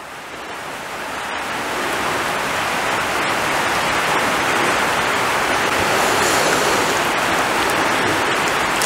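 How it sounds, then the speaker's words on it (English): Walnut-dyed wool being squeezed and rinsed in water, a steady broadband wash of splashing and running water that builds slightly and holds, close and continuous with no talk. "Squeezing out all the dye and then rinsing it well repeatedly."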